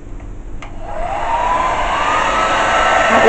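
An air blower pushing wet pearl-white acrylic paint across a fluid-art pour, a steady rising hiss and whoosh that grows louder over a few seconds, close and uninterrupted.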